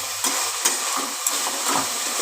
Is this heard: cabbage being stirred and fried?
yes